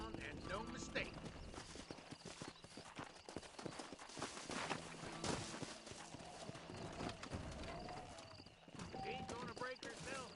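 A wild horse in Red Dead Redemption clip-clops with busy hooves and lets out whinnies and snorts, all under steady voices talking during a horse-breaking scene.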